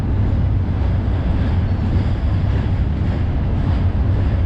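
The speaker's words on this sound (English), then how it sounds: "let's see what locomotives we got on this train." A freight train rolls across an old steel bridge in Springfield, Massachusetts, producing a loud, continuous low rumble and steady rattling roar with no pauses.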